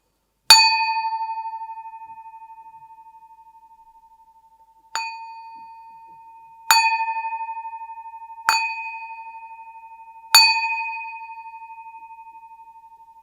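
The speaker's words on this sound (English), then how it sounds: "I'm going to ring the bell." A bell is struck five times at uneven intervals, each strike a bright, clear ding that rings on with a long, slowly fading sustain, with no other sound between strikes.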